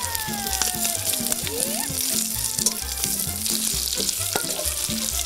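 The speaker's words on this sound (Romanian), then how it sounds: "Ia-uzi cum sfârâie." Fresh pork sizzles steadily as it fries in a cauldron, a dense continuous crackle with rhythmic low thumps of stirring, close and loud throughout.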